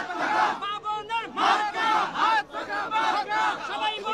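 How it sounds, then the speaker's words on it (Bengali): Thousands of activists chant slogans in unison at a mass rally, rhythmic shouted phrases repeating in loud bursts with short pauses between, the crowd close and dominant. "সেই মহাসমাবেশ স্থলে হাজার হাজার নেতাকর্মী ইতিমধ্যে স্লোগান দিচ্ছে"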